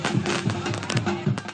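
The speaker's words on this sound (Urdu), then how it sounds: "قومی ہیرو کی آمد کے موقع پر مداحوں نے شاندار آتش بازی" Fans set off fireworks to welcome national hero Arshad Nadeem on his arrival near Mian Channu, a rapid series of crackling, popping bursts under a spoken news voice.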